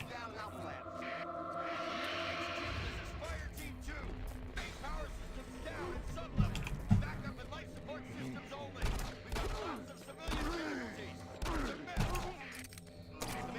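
Pistol fire and other combat sounds in the video game Doom 3, repeated sharp shots scattered over a dense mix of mechanical game noise and music, with bursts of talk over the top.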